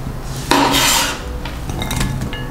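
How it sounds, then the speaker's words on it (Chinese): Thin slices of peeled Chinese yam set down onto a plate, giving a bright clatter and scrape of ceramic near the mic, loudest in one burst early on followed by a few softer small clinks, with no talking. "山药削完皮后切成薄片， 把山药放入盘中"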